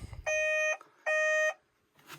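Turning on a vehicle's ignition sets off a warning chime: two clear, steady electronic beeps of about half a second each, close and alone, with a faint rustle after them.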